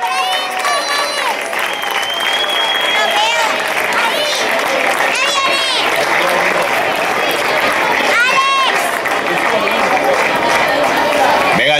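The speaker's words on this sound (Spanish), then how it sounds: "Venga, un aplauso para la albarda." A festival crowd in Fonz applauds for the albarda at the opening of the town fiesta, clapping and cheering mixed with loud voices and music throughout.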